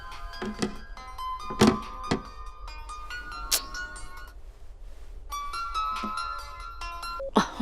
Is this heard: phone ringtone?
yes